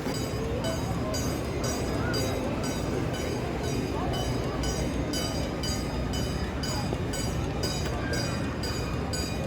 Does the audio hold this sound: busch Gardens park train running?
yes